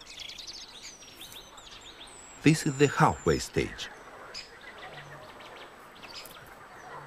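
Nest-building birds in the Volga Delta giving high thin chirps and tweets, faint and scattered against a quiet outdoor background, while someone narrates briefly in the middle.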